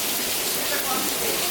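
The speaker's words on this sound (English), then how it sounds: "It is raining." Rain falling outdoors during a storm, a dense steady hiss of drops heard close and continuous, with no clear talk over it.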